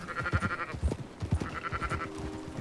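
A large flock of sheep bleats in Red Dead Redemption 2, several overlapping wavering cries near and far over soft shuffling footfalls, with no voices.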